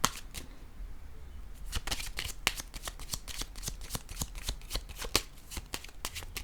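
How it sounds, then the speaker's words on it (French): Playing cards are placed and shuffled on a table in a run of sharp, close snaps and flicks, spaced unevenly over several seconds against a quiet room. "je vais déposer une autre carte ici"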